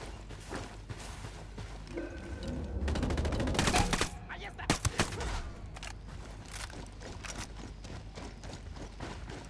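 Gunfire in Tom Clancy's Wildlands: a sustained volley of shots builds to a dense burst, then tapers into scattered single reports and quieter clicks, heard at moderate distance.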